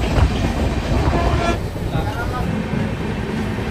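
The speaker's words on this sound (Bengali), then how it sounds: "3 নম্বর প্ল্যাটফর্মে ট্রেন ঢুকেছে।" Train pulling into a platform at a railway station, a loud rumbling roar of wheels and carriages with a brief horn toot early on, and voices heard underneath.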